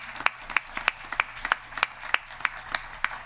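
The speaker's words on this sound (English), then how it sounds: "Can we have one more round of applause for these amazing students?" Sparse applause at a Duval County school board meeting honoring students: a few clearly separated claps ring out at a fairly steady pace, with little crowd noise between them.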